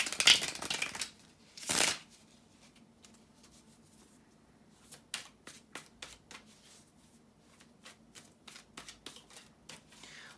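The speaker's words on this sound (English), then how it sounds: "bear with me a second, guys, to shuffle the cards" Tarot cards are shuffled up close, starting with a couple of loud riffling bursts and followed by a run of quicker, softer flicks and taps of cards being handled, with no talking.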